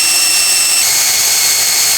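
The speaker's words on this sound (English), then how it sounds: "And now we're gonna drill that with the provided drill bit" A power drill bores a hole with its supplied bit while a spare-wheel mount is fitted to a Lexus GX470, giving a loud, steady, unbroken whine close by with no talking.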